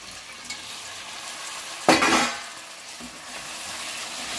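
Chopped tomatoes frying with spices in a hot pan, a steady close sizzle broken by one sharp loud burst as they hit the oil, then settling back to a continuous hiss with a faint stir.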